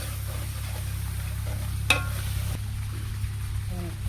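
Chicken with mint leaves sizzles in a pan for a Telangana-style chicken curry, a steady low frying hiss over a background hum, with one brief sharp clink of a utensil partway through.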